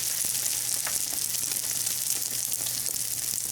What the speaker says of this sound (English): I'm just dipping the bread into the egg mixture and putting it on here